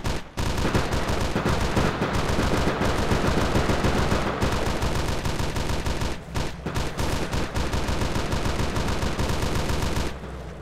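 Sustained rapid gunfire from ARMA 2, dense machine-gun bursts and rifle shots firing almost continuously and loudly, with only brief gaps, no talking.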